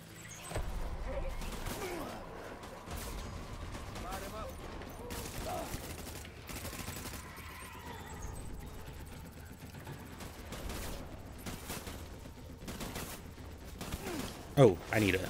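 Gunfire from the video game Death Stranding: scattered shots and mechanical clatter run throughout at moderate level, with a sharper burst near the end, under intermittent game sounds.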